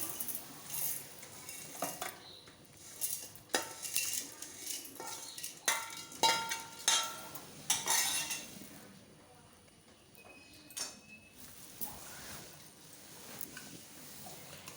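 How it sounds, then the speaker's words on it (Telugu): Metal spoon clinks and scrapes against a container in an irregular series, with soft kitchen clatter and some quieter pauses between. "ఇప్పుడు వీటిని మనం మిక్సీలో వేసుకుందాం"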